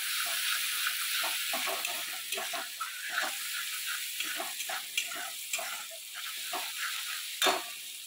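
Garlic paste and spices fry in a pan of oil for a Bengali fish curry with ivy gourd leaves and potatoes, a soft continuous sizzle broken by frequent irregular scrapes and taps of stirring.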